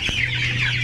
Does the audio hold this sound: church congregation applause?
no